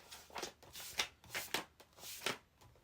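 A deck of tarot cards being split and shuffled by hand, several quick riffling swishes and soft card slaps in an uneven rhythm, close and fairly quiet with no talking.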